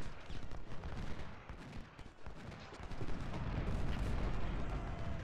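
Artillery fire in the Ultimate General: Civil War video game, a dense, continuous rumble of distant cannon and rifle volleys rolling steadily with no clear gaps between shots.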